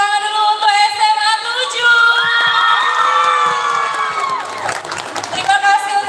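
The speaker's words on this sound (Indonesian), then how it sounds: "tepuk tangan dulu untuk SMA" Audience at a school performance event claps and cheers loudly, with high children's shouts and whoops over continuous applause, while a voice talks over the crowd.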